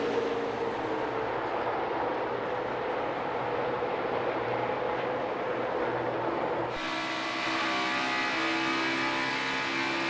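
NASCAR race cars roar around Pocono Raceway in a steady, loud engine drone. The pitch and tone shift abruptly partway through as another car passes close.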